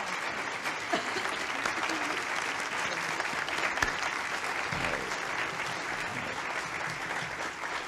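Sustained, thick applause from a large formal audience greeting President Reagan, Mrs. Reagan and Mother Teresa at an official reception; the clapping holds at an even, full level throughout.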